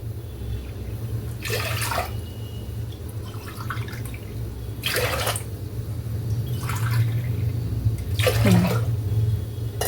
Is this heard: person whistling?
no